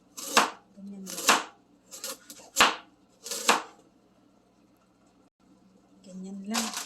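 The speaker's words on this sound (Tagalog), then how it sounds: "Ngayon, hiwain na natin si carrots. Hiwain natin siya maliliit." Carrots chopped into small pieces on a cutting board, four sharp knife strikes spaced about a second apart, loud and close, with someone speaking in between.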